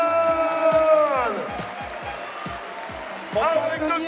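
Audience applause and cheering at the senior trophy finals of a gaming tournament in Nouvelle-Aquitaine, a steady crowd clapping that swells at the start and end while a presenter talks over it with music.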